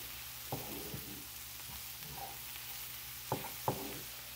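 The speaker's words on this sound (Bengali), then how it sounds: "এবার আমি এতে রসুন কুচি আর লঙ্কা কুচিটা দিয়ে দিলাম। একটু নাড়া দিয়ে" Chopped garlic and green chili sizzle softly in a hot pan for restaurant-style chili chicken, with a few sharp stirring scrapes of a spatula against the metal.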